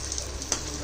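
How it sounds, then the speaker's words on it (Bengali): Food frying one piece at a time in hot oil gives a short, steady, soft sizzle with a faint crackle partway through. "আমি একটা একটা করেই ভাজছি"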